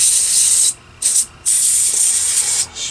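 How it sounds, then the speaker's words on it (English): Cleaner sprays in loud hissing bursts into a lawn tractor carburetor, three to four close, steady blasts separated by short pauses. "spray that out, get a little bit of cleaning going"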